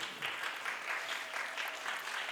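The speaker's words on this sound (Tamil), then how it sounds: "அவருக்கு ஒரு கைத்தட்டல் கொடுக்கலாம்" An audience applauds a poetry prize winner, giving steady, fairly faint clapping that runs evenly throughout.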